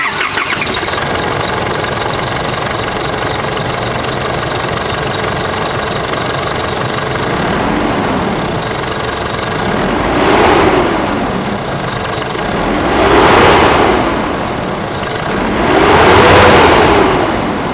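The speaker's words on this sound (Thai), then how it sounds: "มาฟังเสียงเครื่องยนต์กัน" An Isuzu D-Max Hi-Lander diesel pickup engine idles with a steady rumble, then is revved three times in slow succession, each rev swelling and falling back.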